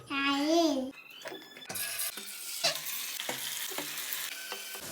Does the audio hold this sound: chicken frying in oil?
yes